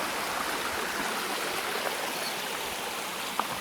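Steady rushing water pours over rocks, a constant close splash like a small waterfall with no voices.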